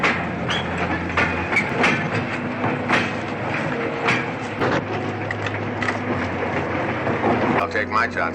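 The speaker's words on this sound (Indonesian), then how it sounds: "ketika kereta melewati beberapa persimpangan" Train with wooden carriages rolling along the tracks, a rhythmic clatter of wheels over rail joints and a steady rumble, heard close, with voices talking over it.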